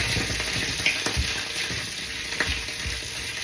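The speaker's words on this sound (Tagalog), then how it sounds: "yung niluluto ko, wait lang. Tumatalsik-talsik na siya." Food frying in a pan in a home kitchen, a steady hiss broken by sharp crackling spatters and pops throughout, close and fairly loud with no voices.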